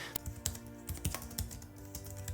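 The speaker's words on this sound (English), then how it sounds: "Cherry MX ultra low profile keyboard. This keyboard is the reason why I could never go back to normal laptop keyboards. It's an absolute blast to type on." Keys clatter in quick, uneven bursts on an Alienware M15 R5 laptop's Cherry MX ultra low profile mechanical keyboard, crisp and close, with no voices.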